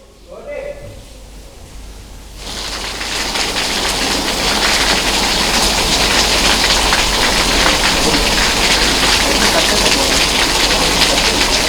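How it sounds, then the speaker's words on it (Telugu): Heavy rain pours steadily over Hyderabad during a monsoon downpour, a dense, loud hiss that swells after a quieter start with a faint bird call and then holds constant to the end. "చాలా అర్లీగా వర్షాలు మొదలవుతున్నాయి, భారీ వర్షాలు పడుతున్నాయి."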